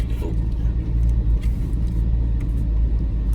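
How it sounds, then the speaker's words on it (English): A Jeep creeps downhill under downhill assist, its engine and drivetrain giving a loud, steady low rumble close by with faint tire and body noise, no voices. "I'm just going downhill with the downhill assist."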